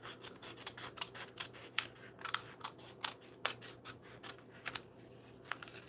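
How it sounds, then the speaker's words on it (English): Scissors snip through paper card pieces for Valentine's Day cardmaking, a quick run of close, crisp cuts in an irregular rhythm over a low steady hum. "Easy to cut out, right?"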